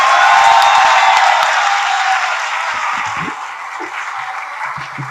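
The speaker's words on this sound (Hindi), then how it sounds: "तो मेरे लिए और इनके लिए आप इतनी तालियां बजाइए" A crowd at a poetry gathering bursts into applause, a dense wash of many hands clapping close and loud that gradually thins and fades, with a few scattered voices near the end.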